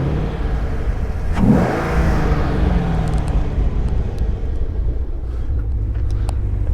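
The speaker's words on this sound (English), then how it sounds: "I'll give it some gas. The LS7 is such an awesome engine." A 2015 Chevrolet Camaro Z/28 with its LS7 V8 is revved once from idle, its loud, close exhaust note swelling and then settling back into a deep, steady rumble.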